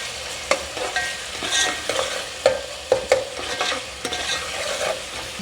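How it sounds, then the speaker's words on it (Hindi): Curry leaves fry in a pan for mixed dal, crackling and sizzling up close while a spoon stirs and taps the pan in uneven knocks and scrapes, with no one speaking. "फ्राई करेंगे"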